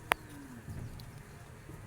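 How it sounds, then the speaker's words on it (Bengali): Outdoors in South Sudan, a bird gives one brief, faint low call against a quiet open-air background. "এই জায়গার পাখির আওয়াজগুলো অনেক অনেক অনেক সুন্দর"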